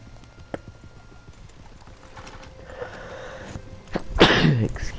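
Horse hooves clip-clop while riding in the video game Red Dead Redemption 2, quiet at first and then louder near the end, with a snort or sneeze from the horse.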